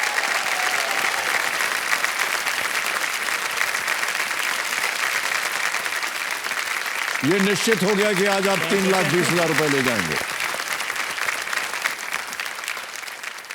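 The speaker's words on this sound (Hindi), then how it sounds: "तालियां बजती रहे इनके लिए।" A studio audience on the KBC quiz show claps steadily and loudly throughout. A voice speaks over the applause partway through.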